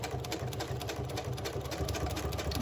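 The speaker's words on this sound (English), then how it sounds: "I think I'm just going to keep it a straight stitch the whole way through this part." A sewing machine runs a straight stitch through a thick, many-layered paper craft tag, a close, loud and steady rapid needle clatter over a motor whir, with no talking.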